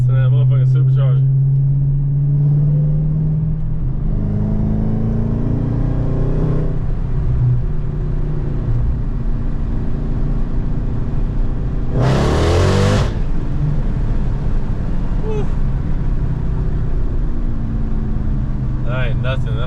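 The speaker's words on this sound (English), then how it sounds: "Listen to that motherfucking supercharger." A supercharged Dodge Hellcat accelerates hard with a loud, rising engine roar and supercharger whine, easing off as it shifts into fourth gear, while someone talks over the engine throughout.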